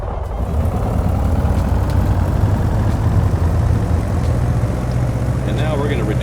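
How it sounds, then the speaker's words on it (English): A Piper PA-28R-201 Arrow III piston engine in Microsoft Flight Simulator 2020 starts and settles into a steady low idle drone, loud and constant, with people talking over it. "as the engine begins to turn, that propeller starts to swing, we'll slowly increase the mixture until we get a good engine start"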